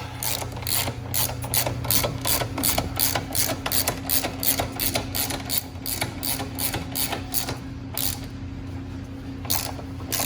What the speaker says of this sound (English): you're going to take your number 17, your 17 mil bolt, or sorry, nut, and put that all back in place